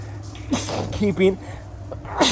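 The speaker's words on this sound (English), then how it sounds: "I usually sneeze in 4. I don't think I've ever done 5 sneezes." A couple of close, voiced sneezes break out, one early and one at the end, with short nasal sounds between them.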